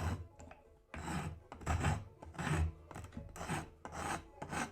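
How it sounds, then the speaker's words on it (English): Cabinet maker's rasp shaping a wooden carving knife handle: repeated rough, gritty filing strokes in an uneven rhythm, close and fairly loud, with no talking. "I'm going to start shaping the handle with my cabinet maker's rasp."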